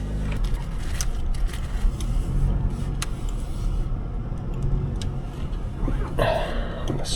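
A Nissan four-cylinder car heard from inside while driving on a road trip, a soft continuous engine and road rumble with faint scrapes and ticks, steady throughout with a slight rise near the end.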